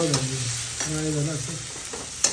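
Dal is poured into a sizzling carrot tempering for South Indian style varan, producing a loud, continuous frying hiss with a short sharp clack at the end.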